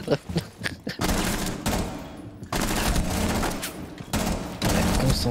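Video game gunfire rattles in loud, close automatic bursts, with a few single shots at the start, then long sustained volleys broken by brief pauses.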